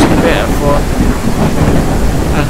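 Steady roar of rain and wind in a video game thunderstorm, with low thunder rumbling throughout, dense and continuous, with faint voice-like sounds blended into the storm.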